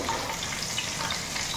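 Oil sizzling and spattering in a pan while frying, a steady close hiss with small crackling pops throughout, no voices.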